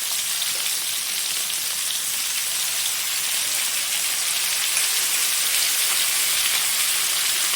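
Vegetables for a healthy vegetable gravy sizzling loudly in a pan as a paste of ginger, green chilli, white mustard and poppy seed goes in, a close, steady, dense frying hiss throughout with no talk.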